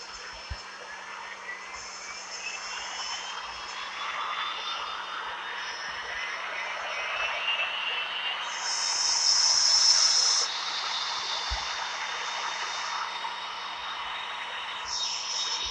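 Boeing 747-400 jet engines spool up on start, a rising whine sweeping slowly upward over a steady roar and hiss. The sound swells louder around the middle and then settles, with no speech.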